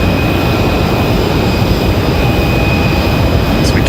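A Delta Airlines Boeing 717-200 jet departing, its engines a loud, constant roar with a high whine on top, heard from nearby and steady throughout.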